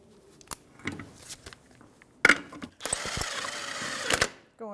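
A 19 mm socket on a ratchet snugs the rear wheel lug nuts of a 1996–2006 Jeep Wrangler: a short run of close mechanical clicks and clatter, with one sharp metallic clank near the middle and no talk.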